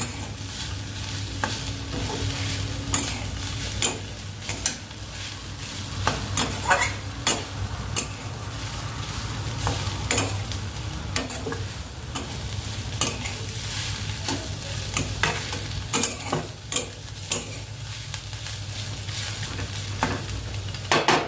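Beetroot halwa being stirred and sautéed in a pan with hot milk and spices: a continuous low sizzle under frequent sharp scrapes and taps of a spoon against the pan, close and busy throughout.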